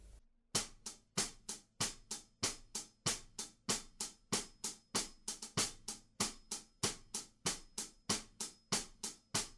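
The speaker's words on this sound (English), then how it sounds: "so the first one is a little hi-hat sizzle right at the end of 4 bars," A drum kit groove with crisp, bright hi-hat strikes in a steady, repeating pattern, each sharp hit decaying quickly, played without any voices.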